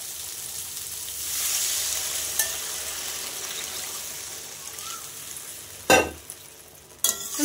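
Spice paste with turmeric for a tangra fish and potato curry frying in a pan, a steady close sizzle with stirring scrapes and a couple of louder clattering strokes near the end.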